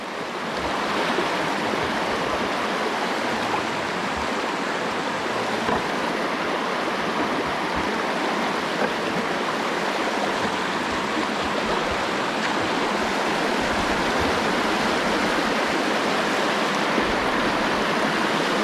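Stream water rushes steadily at the headwaters of Prettyboy Reservoir, a close, continuous broadband wash of flowing water with no voices.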